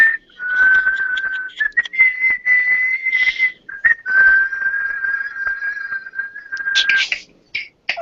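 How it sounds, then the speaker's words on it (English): A person whistles a song alone, a sustained melodic tone with brief breaks and breathy gaps, close and fairly loud, struggling with dry lips at night. "My lips are very dry. It's hard to whistle at night."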